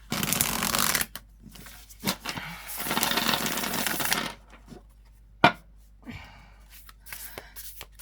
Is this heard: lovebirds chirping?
no